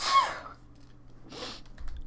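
A single person sneezes with a sharp burst of breath, then a second, softer breathy burst follows after a short pause in a quiet room.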